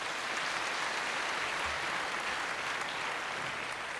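An audience at a Tamil pattimandram debate applauds throughout, a dense, steady clapping that fills the space without pause at moderate loudness.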